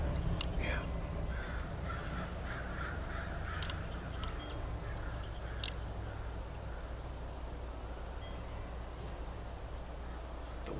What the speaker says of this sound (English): Here come those squadron of crows again.